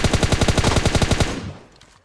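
Rapid automatic gunfire in PUBG Mobile, a fast even burst of about a dozen close, loud shots lasting just over a second, then a fading tail into quiet.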